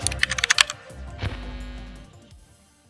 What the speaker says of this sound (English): those big, heavy, and loud mechanical keyboards of past decades